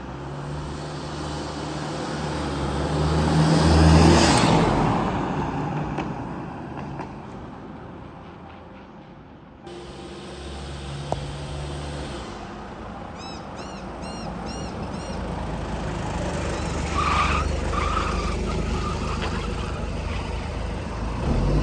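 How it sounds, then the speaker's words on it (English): An abandoned Toyota Hilux, a car with something plainly wrong with it, drives up and down a street in front of a house, its engine swelling as it passes nearby and fading away, with a few faint chirps in the background. "You guys would have just seen the clips of me driving up and down the street in front of our house"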